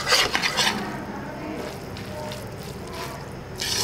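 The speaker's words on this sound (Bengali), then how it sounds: "চিকেন আর প্রন দিয়ে মিশিয়ে দিলাম।" Noodles being stirred with chicken and prawns in a pan: scraping, sizzling stirring strokes, louder at the start and end, with a steady frying hiss between.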